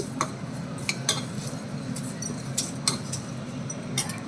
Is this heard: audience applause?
no